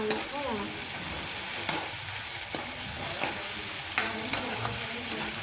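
Onions sizzle as they fry in a tempering for masoor lentil dal in a home kitchen, a steady, close hiss of hot oil broken by a few soft clinks and stirring scrapes.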